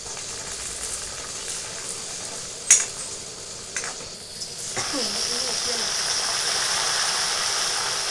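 Curry leaves dropped into hot oil already frying onions for a mushroom gravy: a soft hiss, then a sudden louder crackling sizzle that settles into a steady, fuller frying sound.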